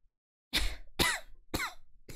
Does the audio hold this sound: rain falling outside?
no